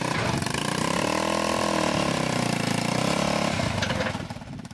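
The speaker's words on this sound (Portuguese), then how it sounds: "É movido a gasolina e junta o motor de moto com câmbio de fusca." A homemade gasoline-powered tractor built from a motorcycle engine and a Volkswagen Beetle gearbox runs steadily and loudly nearby, its buzzing engine note rising and settling, then fading toward the end.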